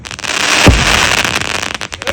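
A close, loud jelly firecracker shot from Sivakasi bursts with a deep thump and then a continuous dense crackle, alone without talk.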